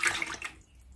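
A short splash of banana peel water being poured, a bright gushing burst that fades out within about half a second, leaving quiet.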